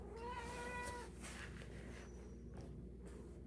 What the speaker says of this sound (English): I have a cat who wants my attention.